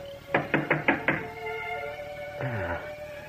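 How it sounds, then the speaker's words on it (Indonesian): Five quick knocks on a door in a radio horror drama, sharp and close, followed by a lingering eerie tonal drone and a low sliding tone. "Apakah tamu yang mengetuk pintu ini makhluk halus itu?"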